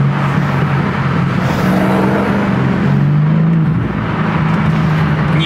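A BMW's exhaust roars loudly as the car accelerates, its engine note climbing steadily through a gear before a shift drops the pitch and the pull resumes.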